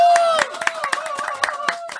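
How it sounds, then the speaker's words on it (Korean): Audience at a Korean talk show clapping: a handful of scattered, sharp hand claps in an irregular rhythm, heard under a sustained tonal voice that carries through the whole stretch. "한번 박수 한번 주세요"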